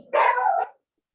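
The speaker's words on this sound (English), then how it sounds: "My puppy." A puppy lets out a single sharp bark, loud and close, lasting about half a second before silence.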